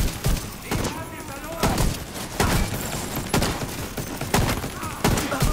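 Repeated bursts of gunfire from a weapon in the co-op shooter The Division 2, loud and punchy, arriving in short volleys about once a second, with a player talking over it.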